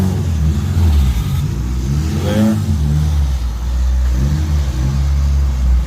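A 2005 Toyota Corolla XRS with a new CNC intake manifold revs loudly on a dyno, its engine note rising and swelling through a pull before settling back, steady and close throughout.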